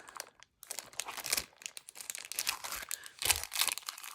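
The plastic wrapping of a sticker and tag package crinkles and crackles steadily as it is handled up close, in uneven bursts with brief pauses.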